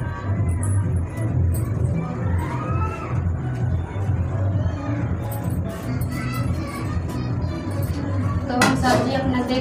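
Cooking utensils are washed outdoors in a village, with steady clinking and scraping of metal pots and dishes against running background noise, and voices faintly present.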